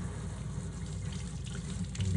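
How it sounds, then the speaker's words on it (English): Room-temperature tap water runs steadily into a sink to rinse deflasked plants, a continuous close rushing flow with no voices over it. "So I just want to rinse these plants."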